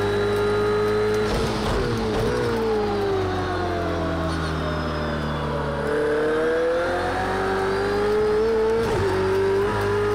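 A GT3 race car engine on the Nurburgring in Project Cars 2 drones steadily throughout, pitch rising and falling with gear shifts and throttle, loud and continuous with brief dips between revs.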